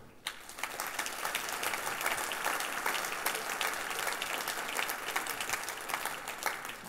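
An audience at a business seminar applauds the four round-table participants, a steady wash of many hands clapping from a moderately sized crowd in a hall, sustained throughout without a break.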